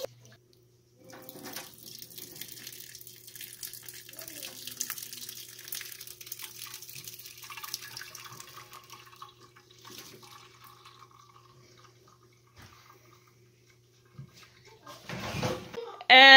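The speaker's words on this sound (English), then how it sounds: "The chokecherries were done boiling. I poured them into the sieve." Boiled chokecherries and their liquid pour into a sieve, a faint running trickle and splashing over several seconds, ending in a louder clatter.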